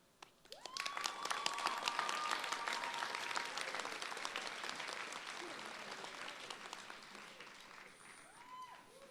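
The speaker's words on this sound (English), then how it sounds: "Y'all can keep clapping." A graduation audience breaks into sustained applause that swells quickly, holds as a dense patter of many hands with a few cheers and whoops, then slowly thins out toward the end.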